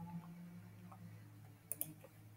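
Two quick computer mouse clicks close together, sharp and faint over a steady low electrical hum, with no other sound around them.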